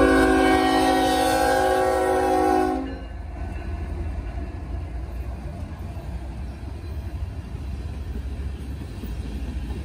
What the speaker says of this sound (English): does sound look like a coal train